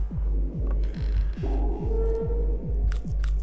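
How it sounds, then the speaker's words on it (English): Painkiller being taken in the video game Buckshot Roulette, heard as a muffled swallowing-like effect over a steady low throbbing hum with about nine rhythmic pulses, ending in a few faint light clicks. "That was the sound of me taking a painkiller."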